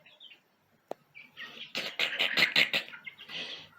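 Many chickens clucking and chirping together inside a cold shed, a dense chattering flock with one sharp click early on, moderately close and steady.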